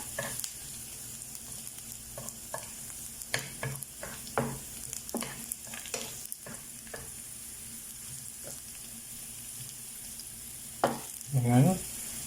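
Garlic browning in oil in a pan gives a steady close sizzle, with intermittent scraping strokes of a utensil stirring it and a louder clatter near the end.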